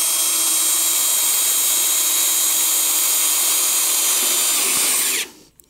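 A power drill bores out broken exhaust manifold studs in a steady, loud, high-pitched whine that runs continuously for about five seconds, then cuts off abruptly into near silence.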